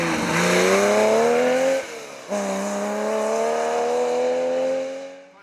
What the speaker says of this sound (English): Tony Robinson was running well in his 911 as he gathered experience of driving on the loose.